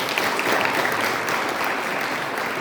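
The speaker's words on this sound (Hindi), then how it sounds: "तालियां।" Audience applause in a lecture hall, a dense steady clapping that holds at full level for the whole stretch, with no talk over it.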